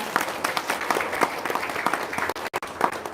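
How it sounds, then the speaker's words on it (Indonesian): A seminar audience claps together in a brisk burst of applause, many individual hand claps audible, with a couple of brief dropouts near the end. "Tepuk tangan dulu dong."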